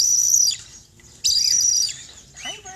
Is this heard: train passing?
no